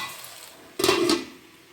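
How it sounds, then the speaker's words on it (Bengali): A spoon stirs cauliflower ghugni in a pot, with one short clanking scrape of metal against the pot, close and clear, set against quiet kitchen background noise. "একটু নেড়ে দেবো।"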